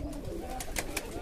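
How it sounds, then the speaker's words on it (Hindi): A pigeon coos softly, a short low murmur over steady background hum, during hot weather. "ये देखें दोस्तों, ये कबूतर बैठा है जी।"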